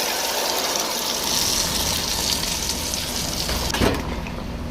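Blended ingredients pour into a pot of ogbono soup with a continuous soft gushing, splashing wash throughout, ending in a brief louder splash near the close.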